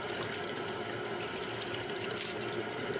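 Warm water at about 45 degrees pours steadily from a tap for soaking bean sprouts, a continuous close splashing rush with no pauses.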